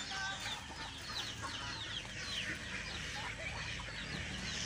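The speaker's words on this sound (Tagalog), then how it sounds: "Ito yung mga native chicken natin ha." A flock of native chickens kept for fattening clucks and chatters continuously at a moderate distance, with many overlapping calls and no voices.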